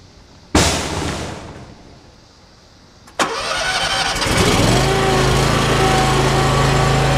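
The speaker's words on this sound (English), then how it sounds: "Let's mow." A Gravely lawn mower engine cranks with a sharp burst that dies away, then catches on a second start and settles into a loud, steady close-up roar.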